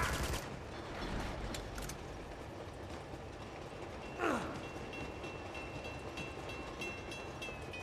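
Gunfire in the video game Uncharted 2: a quick cluster of sharp shots at the start, then a single rising whoosh over a steady, hissing game ambience.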